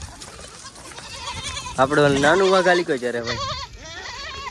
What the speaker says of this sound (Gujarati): બકરા આવી ગયા છે